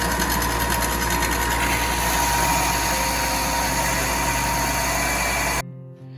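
A makeshift lathe, improvised by screwing a workpiece to the back end of a motor, spins with a steady mechanical whir and hum for about five seconds, then cuts off abruptly.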